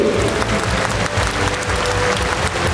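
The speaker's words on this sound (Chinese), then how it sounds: "给印尼雅加达所有的志工掌声鼓励。" Steady, dense applause from a large audience in an arena ceremony honouring volunteers from Jakarta, Indonesia, filling the whole stretch at an even, loud level.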